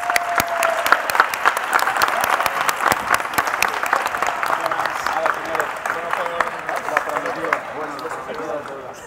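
Crowd applause at the closing and awards ceremony of the T3chFest 2017 tech festival, a loud burst of clapping with sharp individual claps that gradually fades, while voices chatter and call out over it toward the end.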